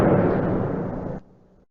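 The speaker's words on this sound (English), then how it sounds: "or a cannon firing." Cannon fire as a sound effect: one heavy booming blast that rumbles for about a second, then cuts off abruptly into a brief fading tail, loud and alone.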